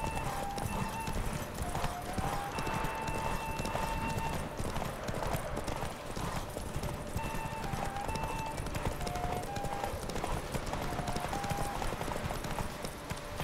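Rapid horse hooves clip-clop in a steady galloping rhythm over a busy soundscape from The Witcher 3: Wild Hunt, with occasional short tonal chimes, fairly loud and continuous.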